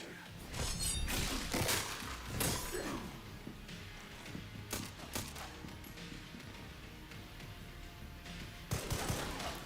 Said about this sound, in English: Man's shooting at me, but I don't know where from